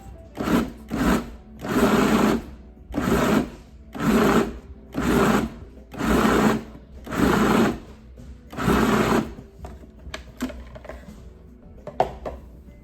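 Food processor pulsing carrot cake batter with walnuts, pineapple and cinnamon, eight or so loud whirring bursts of about a second each in a steady on-off rhythm, then a few clicks and quiet handling.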